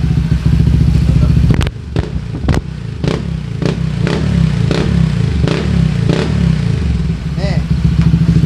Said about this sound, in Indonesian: knalpotnya juga mantap nih suaranya.